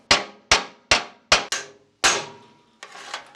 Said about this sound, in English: do some panel beating and straighten out the bits I feel are salvageable with the help of the hammer and a makeshift anvil